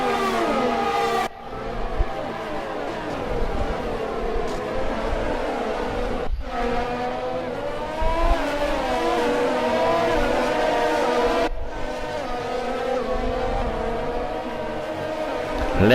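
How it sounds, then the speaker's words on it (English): Formula 1 race cars accelerate in the F1 2020 video game at the Russian Grand Prix, with loud, high, rising engine whines climbing through the revs and abruptly cut at gear changes, several cars blending together over sixteen seconds. "gee, just listen to them cars."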